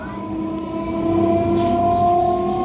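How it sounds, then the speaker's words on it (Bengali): A train pulls out of Konnagar station, its steady rumble and hum rising in loudness with a brief horn-like tone midway, heard close from on board. "কোন্নগর থেকে ট্রেন ছেড়ে দিল।"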